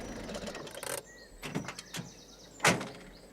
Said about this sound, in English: The door's on the other side, Granny Dryden.